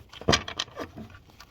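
Tarot cards shuffled by hand during a reading, a quick burst of papery riffling and flicks that peaks early, then lighter scattered card taps fading out.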